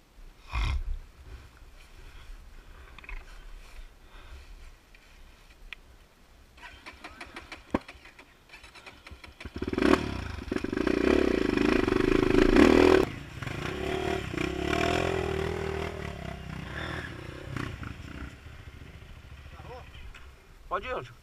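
Off-road motorcycles ride through mud on a rough trail, engines idling and sputtering before one revs hard and loud near the middle, then settles into a fading drone, with people talking around the bikes.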